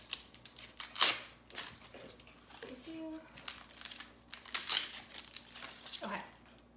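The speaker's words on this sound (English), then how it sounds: "Okay, so now I'm gonna finish peeling the onion." Dry onion skin being peeled by hand, giving close, intermittent crinkling and papery crackles in short bursts, with a voice talking faintly at times.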